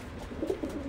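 Pigeons cooing softly inside a pigeon loft, a few low murmuring coos rising briefly over a steady quiet background hum.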